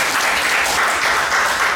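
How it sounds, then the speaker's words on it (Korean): A lecture audience at a leadership talk gives a dense, even burst of clapping that fills the whole short stretch with no voices over it. "박수 한번 더 칩시다"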